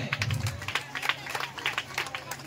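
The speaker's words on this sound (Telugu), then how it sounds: "గట్టిగా కొట్టండి, క్లాప్స్ కొట్టండి అమ్మా" An audience claps at a lemon-and-spoon race prize announcement, with scattered, uneven applause under a steady hum and someone talking over it.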